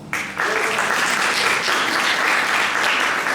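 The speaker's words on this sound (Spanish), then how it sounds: "Un aplauso para Agnes." Audience applause at a live arts gathering: steady, dense clapping that starts abruptly and holds at an even, fairly loud level throughout, with no voices over it.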